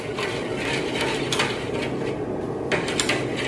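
Chopsticks stirring milk porridge in a cooking pot, a continuous scraping and clinking with occasional sharper knocks against the pot, close and fairly loud, with no talking.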